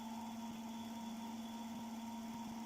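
Generator with nanocrystalline slot material humming as it slows toward 400 RPM, a steady low droning tone with a mechanical buzz and faint vibration, close and even for the whole stretch.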